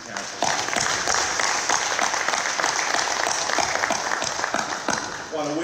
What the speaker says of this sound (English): let's give a big round of applause for the participants from the 3 regional councils